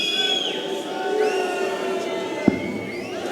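A crowd at the Dutch Darts Masters 2019 final between Michael van Gerwen and Ian White roars and cheers steadily in a large arena, a dense wash of voices with whistles and one sharp bang.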